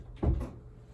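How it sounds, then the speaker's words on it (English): An indoor door is pushed shut with a single dull thump. A short soft rattle follows, then quiet room tone. "1 second, I have to shut the door."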